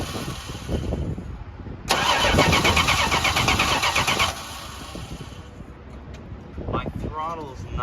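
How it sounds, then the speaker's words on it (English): A 1968 Dodge Dart engine running at a steady idle, briefly roaring louder for a couple of seconds before settling back, with a person talking intermittently nearby. "let's see if it'll just stay idling"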